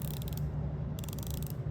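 A luxury wristwatch bezel turns with two short bursts of fine, rapid ratcheting clicks heard up close over a faint background hum.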